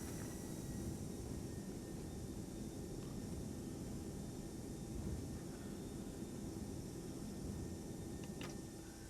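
Steady broadband roar of an Airbus A319's engines and thrust reversers during landing rollout in the X-Plane 11 flight simulator, a constant dense rumble that holds evenly throughout with faint ticks and no talking.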